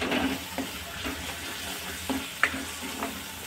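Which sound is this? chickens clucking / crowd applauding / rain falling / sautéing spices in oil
sautéing spices in oil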